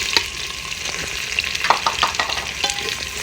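Chopped onions fry in a pan with a bright, crackling sizzle while a spoon clacks and scrapes through them in quick irregular strokes, close and fairly quiet.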